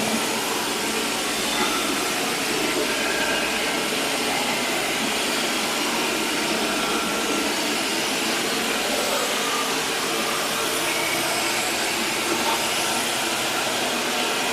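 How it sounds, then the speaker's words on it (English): An ICE i15B floor scrubber runs across a floor, giving a steady loud broadband whoosh and whir that holds unbroken throughout. "You're going to see it is going to scrub and clean the floor."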